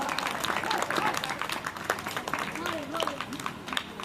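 Audience clapping at a Ramlila stage event in Naubasta, Lucknow, a broad patter of many hands held at a steady level throughout, with voices talking over it.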